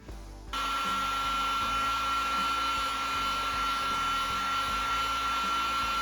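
A heat gun blows hot air onto a damaged plastic front bumper of a Ford EcoSport during bodywork repair. It switches on abruptly and runs as a steady, loud, high-pitched whine with a faint clatter of handling underneath.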